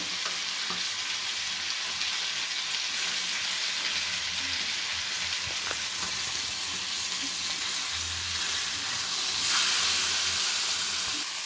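Fish coated in ground masala paste fries on a hot tawa with oil, giving a steady, close sizzle and hiss that holds for several seconds and swells briefly near the end.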